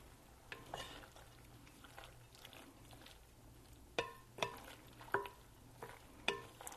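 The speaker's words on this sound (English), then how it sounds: "Give this a stir" Ham and asparagus pasta alfredo is stirred in a pan: quiet, irregular spoon scrapes and soft clicks against metal over a faint simmer, with a few sharper taps spaced toward the end.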